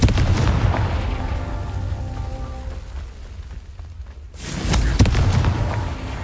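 Confringo fire spell blasts in Hogwarts Legacy: a heavy rumbling roar of game effects fades slightly, then a sudden loud booming burst erupts and keeps rumbling to the end.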